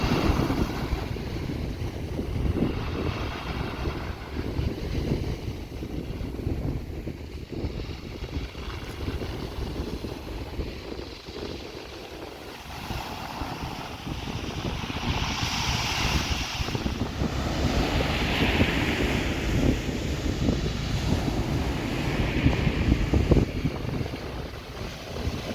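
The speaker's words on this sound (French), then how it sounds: "Je vous laisse avec le bruit des vagues." Steady wash of ocean surf at Dieppe with broad, rolling swells and gusty wind rumbling across the microphone, no voices.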